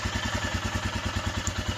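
A Royal Enfield Himalayan motorcycle engine runs after its exhaust was repaired, heard close up as a steady, even, low-pitched thumping idle with no talking.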